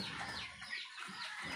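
Chickens on a small Philippine farm cluck softly and steadily at feeding time, faint and somewhat distant beneath a hissy, airy background, with no voices.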